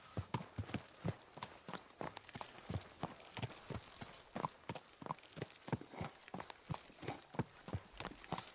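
Horse hooves clip-clop in Kingdom Come Deliverance 2 in a steady, even walking rhythm, moderately close and fairly quiet, with no talking over them.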